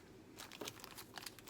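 A plastic bag is crinkled and handled up close, giving a brief burst of dry rustling and crackling over about a second, with no voices.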